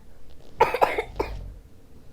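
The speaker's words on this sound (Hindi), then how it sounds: "खांसी हो रही है।" A child coughs several times in quick succession, close and fairly loud, with short harsh bursts and no talking during the coughs.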